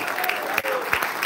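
Church congregation applause during a Spanish-language sermon, a short, loud, dense burst of clapping with a brief dip in the middle and voices mixed in.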